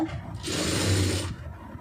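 A sewing machine stitches a strap in one short, steady mechanical burst that runs for about a second, with quieter handling noise before and after.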